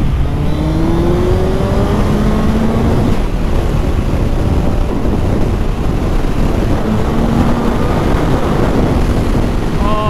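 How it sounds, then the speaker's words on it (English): A 2022 Suzuki Hayabusa motorcycle accelerates hard on an open road, its engine note climbing in rising sweeps beneath loud, constant wind rush on the microphone. "I've not been on a bike that has had that much acceleration in a very, very long time"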